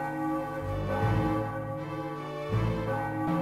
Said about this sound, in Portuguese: O sino tá tocando.